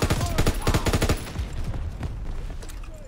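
A rapid burst of close, loud machine gun fire in the video game Call of Duty: WWII, about a second of evenly spaced shots before the clip fades into quieter background battle noise.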